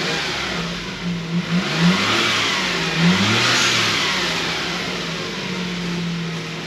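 A 1996 Suzuki Jimny on its stock exhaust revs up a few times from idle, the engine rising and falling in pitch, loud and close, then settling into a steady rumbling idle.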